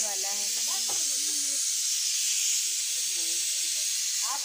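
Boiling potatoes release a loud, steady hiss of steam that runs continuously, presumably from a pressure cooker, while someone talks over it at the start and again near the end.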